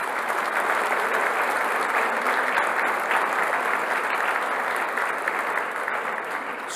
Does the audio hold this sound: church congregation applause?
yes